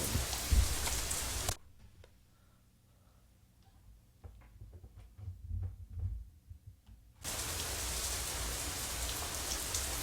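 Steady rain hiss from a visual novel video game fills the opening and closing stretches, broken by a quieter middle section of soft low thumps and faint rustling.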